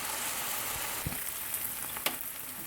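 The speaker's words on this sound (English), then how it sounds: "And then we're going to let them simmer a little bit longer." Glazed tenderloin chops simmer and sizzle in a pan, a steady close hiss of frying with a few soft clicks and scrapes from moving the meat.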